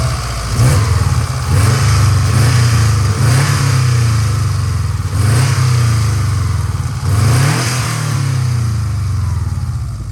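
A 2004 Subaru Impreza 2.5RS boxer engine with a stainless exhaust revs repeatedly, rising and falling in several throaty bursts over a steady loud idle, close by under the hood with no talking.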